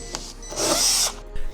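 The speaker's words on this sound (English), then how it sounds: "But from this side, we can drill the spot welds from here." Power drill boring out spot welds on a rusty Mazda MX-5 body panel, one loud whining burst of about half a second with brief clicks and taps before and after.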